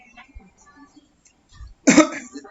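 One person gives a single sharp, close cough with a throaty rasp after a stretch of quiet, faint room sounds.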